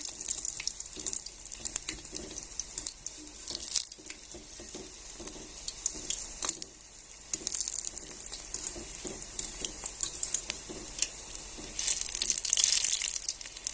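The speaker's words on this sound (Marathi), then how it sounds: "भेंडी आतून पण चांगली तळल्या जाईल" Bhindi (okra) frying over medium heat in hot oil for a crisp Marathi-style dish, giving a steady broadband sizzle with scattered crackles and stirring scrapes; no voices.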